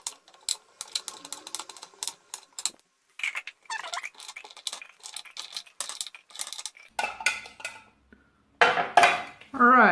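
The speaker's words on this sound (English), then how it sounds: "And then I cut some transparent soap" A knife cutting through transparent melt and pour soap, with irregular clicks, scrapes and taps of a blade and cutting surface, close and intermittent, with brief pauses and a louder clatter at the end.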